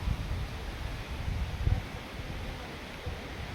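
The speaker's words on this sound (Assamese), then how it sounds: "চাওক এতিয়া কি বতাহ মাৰিছে আৰু" Strong wind blows outdoors near a bridge, producing low, gusty buffeting rumbles that swell and fade against the microphone, with no voices.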